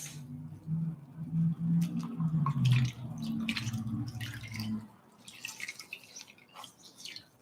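Water drips and splashes close by as a facial mask is rinsed off, with a low hum under the first part and scattered patters alone afterward.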